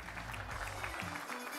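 Audience applause at an engineering awards dinner: a short, dense wash of clapping from a crowd, fairly faint and continuous throughout.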